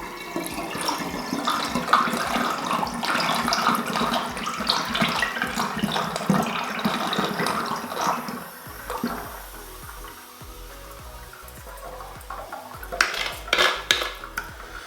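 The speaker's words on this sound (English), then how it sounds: "we will just give that a bit of a swill out" Water sloshes and swirls inside a container being swilled out to rinse leftover sugar from orange juice wine making, busy and close for several seconds, then quieter with a few clattering knocks at the end.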